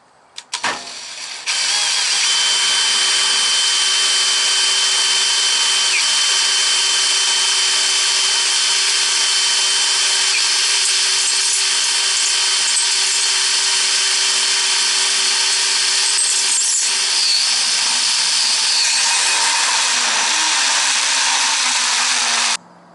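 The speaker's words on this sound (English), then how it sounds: "I'm gonna cut the holes just a little bit big so that I'll have some movement" A power tool cuts holes in a steel lintel, a loud continuous whine and grind held steady for about twenty seconds after a brief start, close up with no talk.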